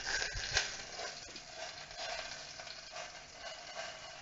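Large tomatoes frying in a pan, skins blistering, give a steady soft sizzle with faint crackles and a few brief stirring scrapes, no voices.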